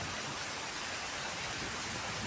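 Sudden May rain in rural Konkan, a steady, faint hiss of rainfall with no breaks and no voices.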